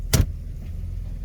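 A truck engine cranks in one short, sharp burst and catches, then settles into a steady low idle rumble close by.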